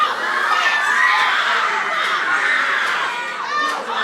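Roller coaster riders scream together at Knott's Berry Farm, likely on the Silver Bullet coaster: a loud, sustained wash of high-pitched crowd shrieks from a distance, steady for several seconds with slight swells.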